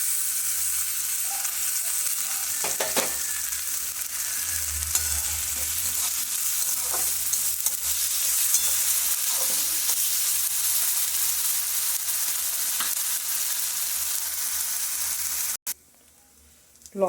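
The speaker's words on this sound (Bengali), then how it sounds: "এবারে সব মশলাগুলো আমি ওইতে একসঙ্গেই দিয়ে ভেজে কষে নেব।" Spices fried and stirred into fried onions in a pan, with chilli powder, turmeric, ginger-garlic paste and salt: a steady hiss of sizzling oil under repeated scraping stirs, then a sudden cut to near-silence near the end.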